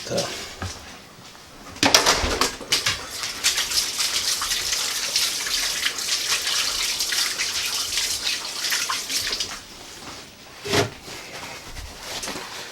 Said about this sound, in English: let me just kind of rinse this off a little bit with my hands